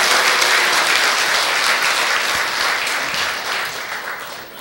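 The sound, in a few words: loud applause in congratulation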